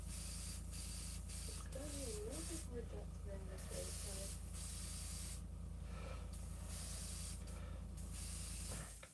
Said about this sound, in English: we're going to shoot the white out of it because his airbrush works so good